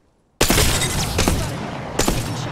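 Loud Apex Legends gunfire bursts right after a near-silent start, a dense close-up volley with several sharp shot transients and a second burst near the end.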